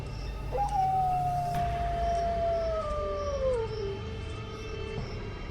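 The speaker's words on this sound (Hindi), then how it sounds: "तभी फिर से कुत्तों के रोने की आवाज आने लगती है" Dogs howling as an effect in a Hindi horror story, one long, clear, mournful howl gliding slowly downward, with a fainter second howl joining, over a quiet eerie background.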